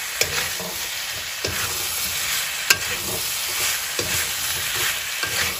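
Pork curry frying in a pan while being stirred, a steady sizzle broken by repeated scraping stirs at an irregular pace, close and fairly quiet with no talking.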